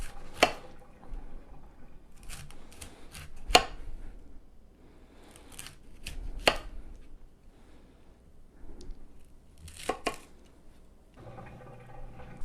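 A knife slices a washed cauliflower into steaks, producing scattered crisp cutting crunches and taps on a board at an irregular pace, fairly close and moderately quiet.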